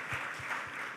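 Audience applause at an aviation safety and security conference session, a short burst of steady clapping with even, moderately loud texture and no talk over it.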